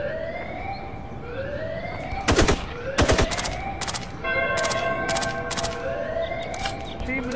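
Gunfire rings out in Project IGI 2 as sharp, loud bursts in short clusters and single shots, set against a wailing siren that sweeps up and down throughout.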